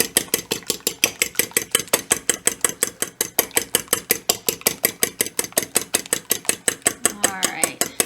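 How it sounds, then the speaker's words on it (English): A whisk beats a large egg in a bowl for sweet tart dough, making a fast, steady series of sharp metallic clicks against the sides, loud and close, with a brief voice near the end. "I'm just going to whisk this up."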